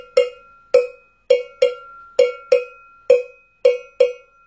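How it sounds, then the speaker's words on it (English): A cowbell is struck in a steady beat, about ten sharp, clanging hits over several seconds, each ringing briefly before the next, loud and close with no voices. "do you have a cowbell?"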